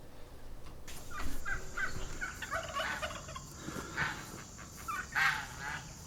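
A domestic turkey on a homestead gobbles in bursts outdoors, the rattling calls coming in a few loud runs over a steady background hiss.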